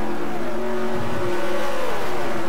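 V8 race cars, apparently in a sim race, speeding down the straight at Yas Marina, a loud, sustained engine drone with steady tones rising slightly as the pack runs in slipstream.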